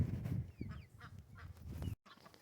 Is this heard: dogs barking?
no